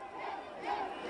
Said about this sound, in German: Großer Jubel bei den Fans